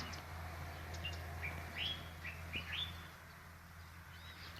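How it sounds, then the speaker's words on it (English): A few short chirping bird calls ring out over a steady low hum at an outdoor house-building site in Gambia, the song coming in quick bursts before fading. "Oh, that's a really nice bird."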